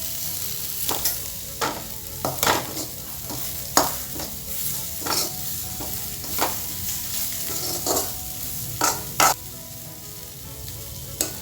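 Cabbage thoran for an Onam sadhya being stirred in a pan, with a steady sizzle under about a dozen rhythmic scraping strokes of the spoon, close and clear, no talk.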